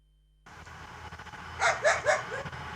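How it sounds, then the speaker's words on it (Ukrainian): Several dogs bark in a short burst of three or four loud, fairly close barks over steady background noise, following a quiet opening. "Постоянно ті собаки виють, гавкають"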